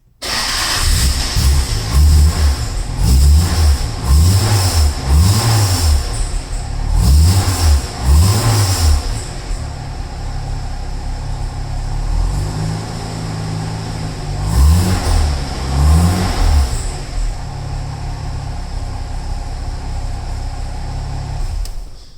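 A 1960s classic car with a 4.2 liter straight-six engine revs repeatedly, about eight loud throttle blips in a steady rhythm over a constant idle, then a longer sustained rev and settling back to idle, close and without speech.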